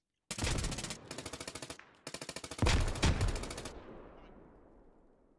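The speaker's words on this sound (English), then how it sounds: "Grenade going out." Rapid automatic gunfire in the military shooter Squad, several loud close bursts of sharp rhythmic shots with brief gaps, ending in a heavier blast that rolls off into a fading echo.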